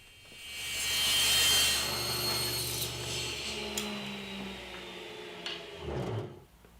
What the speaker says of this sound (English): I'm going to resaw the material at 9/16